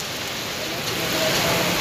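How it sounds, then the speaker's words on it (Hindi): Heavy rain pouring onto a wet road, a steady dense hiss throughout that grows slightly louder toward the end, with no voices present. "फिलहाल बारिश पड़ने लगी है काफ़ी तेज, बाकी देख सकते हो रोड सब पूरा गीला हो गया"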